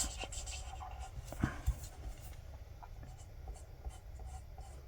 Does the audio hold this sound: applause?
no